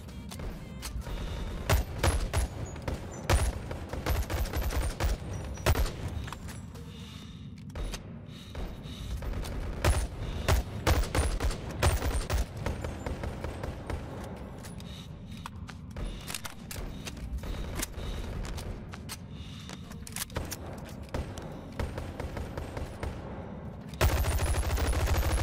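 Bursts of SMG fire in the VR game Boneworks crackle loud and close, coming in repeated rapid volleys with short pauses between them.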